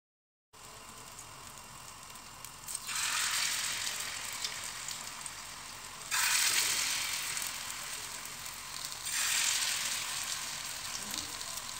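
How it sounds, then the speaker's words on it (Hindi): Potato nuggets fry in hot cooking oil in a frying pan with a steady close sizzle that surges louder in three waves, with no talk over it. "फ्राइंग पैन को हल्का सा गरम करेंगे और ये डिप किए हुए"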